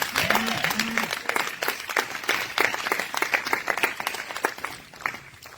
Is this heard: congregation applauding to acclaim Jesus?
yes